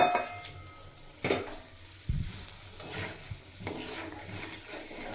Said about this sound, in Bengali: মশলার সঙ্গে মিশিয়ে দুই তিন মিনিট মতো নাড়াচাড়া করে নেব